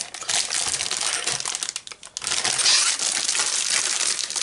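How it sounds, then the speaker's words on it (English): A plastic bag crinkles and crunches loudly up close as magazine issues are unboxed, with continuous rustling that briefly pauses midway before resuming. "Let's try not to talk too much while I'm rustling the bag."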